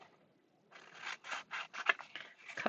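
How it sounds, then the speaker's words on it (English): Scissors cutting the corners off paper card in a card-making craft session, a run of about eight crisp snips close up after a brief quiet start, with no talking. "So I'm just cutting off the corners."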